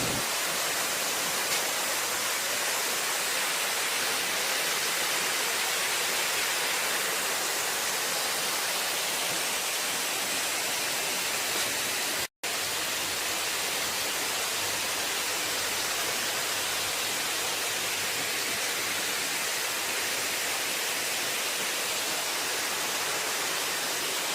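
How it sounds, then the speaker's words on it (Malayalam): A waterfall crashes through forest near Munnar, its steady broadband roar continuous and loud throughout, with a brief dropout midway before the rush resumes unchanged. "നല്ല അടിപൊളി മരങ്ങളും കാടും അതിന് നടുക്കൂടി ഒരു വെള്ളച്ചാട്ടവും."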